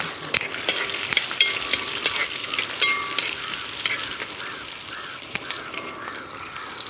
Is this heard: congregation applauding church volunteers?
no